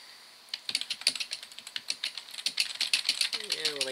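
Rapid, uneven clicking of keys on a computer keyboard, close and fairly loud, running steadily for several seconds after a brief quiet start; a short voice appears near the end.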